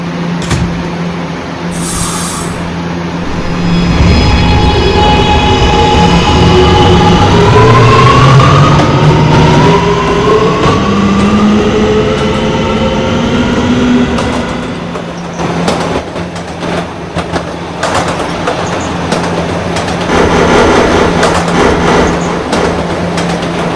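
An R211 E subway train running in a Roblox game, a loud steady rumble with rising motor whine as it accelerates, then rattling clatter and hum while it travels on.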